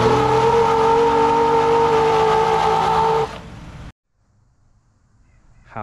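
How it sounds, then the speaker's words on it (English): A Jeep LJ on 37-inch tires, fitted with 5.38 gears, an OX locker and chromoly shafts, roars loudly and steadily through a burnout for about three seconds, then drops off abruptly to near silence before another rev begins. "Burnouts out of a Jeep with 37's."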